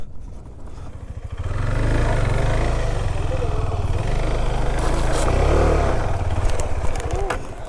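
KTM 390 Adventure motorcycle on an off-road trail ride, its engine rumbling close and steady, swelling louder after the first second and holding, with some clatter over it and a voice speaking briefly.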